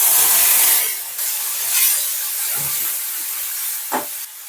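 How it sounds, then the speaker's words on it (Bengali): Ground spice paste goes into hot oil with panch phoron and two chillies, giving a loud, close, hissing sizzle that rushes in, then settles into a steadier frying hiss, with a brief knock near the end. "তো সেই পেস্ট মশলাটা আমি দিয়ে দিচ্ছি"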